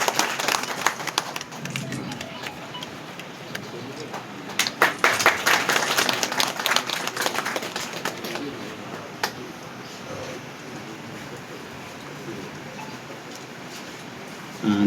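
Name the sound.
applause from the village crowd welcoming the minister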